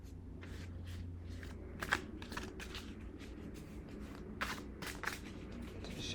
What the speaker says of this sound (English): just gonna try to shuffle on camera